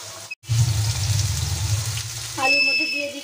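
Cut potato pieces dropped into hot oil in a pan for egg curry give a steady, close frying hiss with a low bubbling rumble after a brief silent gap.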